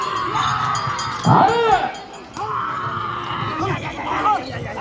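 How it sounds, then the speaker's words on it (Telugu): Crowd shouting and cheering at a rural bull pulling contest, loud ragged yells and whoops from many voices rising and falling across the clip, with one sharp surge of excited shouting midway. "కేకలు కేరింతలు"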